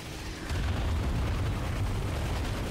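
An ion cannon blast striking its target in Ratchet & Clank, a deep sustained rumbling boom that surges in after a moment and rolls on loudly to the end.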